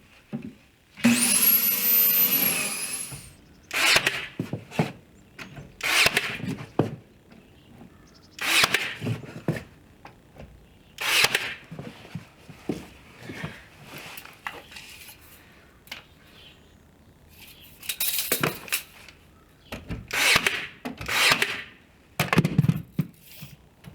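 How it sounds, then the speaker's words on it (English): Drilling pocket holes in wood for the center pieces of a basement bar built in a shop: repeated short bursts of drilling, each a second or two long, separated by quieter pauses, with tool and workshop clatter. "Here I'm going to drill my pocket holes"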